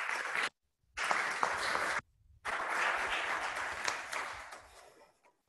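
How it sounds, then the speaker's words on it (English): An audience applauds a winner in a hall, three bursts of dense clapping with short silent breaks, the last burst long and slowly fading away. "So let's give Jerry Anders our winner a round of applause."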